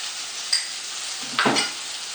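Potato pierogi frying in a pan, a steady broadband sizzle throughout, with a brief clink near the start and a louder scrape or turn of the dumplings about two-thirds through.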